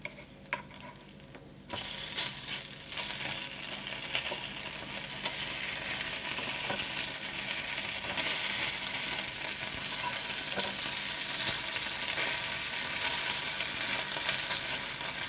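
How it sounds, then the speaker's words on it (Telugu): Food roasting on a flat pan over a low flame, a steady soft sizzle and crackle that starts after a brief quiet moment and continues evenly with small pops throughout. "ఇలా పెనానికి పట్టినంత పెట్టుకున్న తర్వాత వీటిని ఒక ఐదు నిమిషాల పాటు లో ఫ్లేమ్లోనే కాల్చండి"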